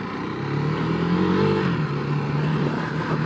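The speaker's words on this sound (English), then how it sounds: "it doesn't sound bad actually for such a small bike" A 2022 KTM 390 Duke single-cylinder motorcycle engine revs steadily up and settles back, loud and close with a buzzing, rising-and-falling pitch and no talk over it.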